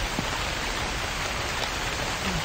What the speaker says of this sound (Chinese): 哎呦，真的有下雨的感觉、欸